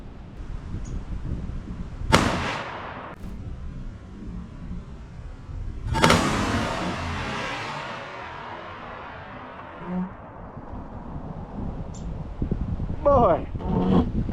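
Two sharp, loud reports from a Traditions NitroFire Pro muzzleloader ring out several seconds apart outdoors, each fading into a rumbling echo, with voices talking at other moments.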